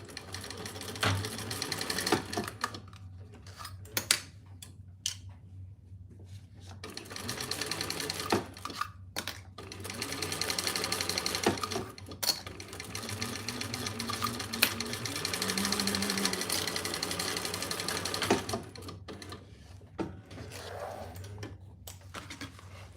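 A sewing machine stitches fabric in fast mechanical bursts separated by short pauses, with a steady hum and rattle underneath, close and clear with no talking.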